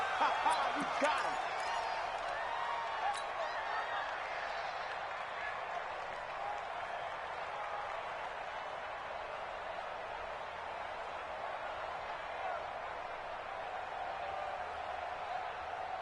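A football stadium crowd cheers ahead of a big third down in a Buccaneers at Browns game, a broad, steady roar that holds for many seconds, with a few sharper bursts near the start.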